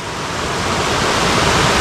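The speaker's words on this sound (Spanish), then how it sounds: "la cascada del Molino de San Pedro" The Molino de San Pedro cascade on the Cabriel river, in the Sierra de Albarracín, pours with strong flow, giving a steady, loud, broadband roar of falling water close by, with no talk.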